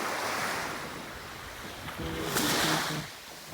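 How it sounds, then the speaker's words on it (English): Sea waves wash onto the sand at Frenchman's Cove beach in Portland, Jamaica, a steady broad surf roar with wind noise across the microphone, swelling louder near the end, no voices. "you can see the sea goes all the way out"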